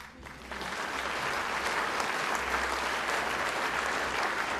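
Steady, dense applause from a large audience at a 2005 NZRL awards night, sustained and evenly loud throughout with no speech over it.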